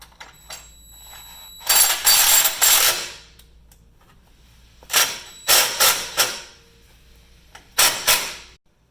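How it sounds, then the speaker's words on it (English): A ratchet tightens a bolt on the front bumper mounting plate of a RZR XP1000, three bursts of quick clicking strokes with quiet pauses between, close and with no speech. "We can go ahead and tighten down this bolt."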